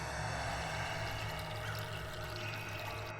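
Water runs steadily from an opened kitchen tap, a continuous close pouring rush with a low hum beneath it and no break over the whole span.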